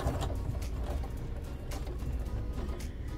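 A sewing machine stitching a zippered pocket, running in reverse and then forward again to secure the bottom edge, a quiet continuous mechanical whirr with light rhythmic clicking, close by and alone.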